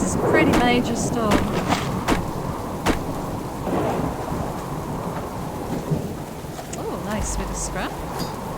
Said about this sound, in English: Wow, this is a pretty major storm.